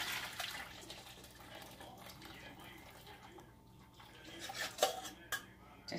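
Hot water poured off boiled potatoes in a home kitchen, a steady running splash with metallic pot clinks and a few louder knocks near the end.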